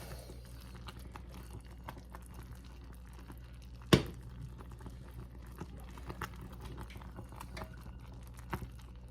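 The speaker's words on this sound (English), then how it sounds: "see how that's bubbling?" Soft, continuous bubbling and popping of sugar syrup simmering in a pan close by, with one sharp click partway through and no talking.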